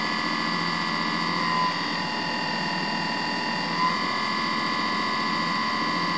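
A refrigerator compressor converted into an electric generator runs steadily, giving a continuous loud whine with strong steady tones and a dense hum throughout, with no talk.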